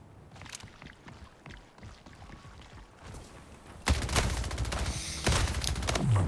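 SMG gunfire in the arena shooter Splitgate, with scattered shots at first and then loud, dense rapid bursts that break off briefly before resuming.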